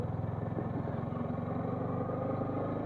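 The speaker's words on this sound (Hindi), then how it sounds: "क्लच दबाओ, एक्सीलेटर छोड़ो और गियर डाल दो, लाइक ऐसे, बस।" A motorcycle engine runs steadily through a gear change, with a close, continuous mid-pitched drone, a light rhythmic pulse and faint mechanical clatter, with no voices.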